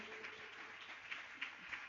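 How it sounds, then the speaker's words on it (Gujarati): Audience applause for the speaker at a Swaminarayan temple katha in Bhuleshwar, Mumbai: soft, steady clapping from a crowd, fairly faint and distant, with a few sharper claps standing out near the end. "એક વખત આપણે વક્તાશ્રી માટે પણ તાળીઓનો નાદ કરીએ"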